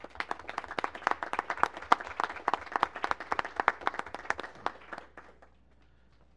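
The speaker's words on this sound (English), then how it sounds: "I'd like to applaud them right now" Sparse, distinct hand claps from a small audience at a county board of education meeting, a steady patter of individual claps that thins out and stops near the end.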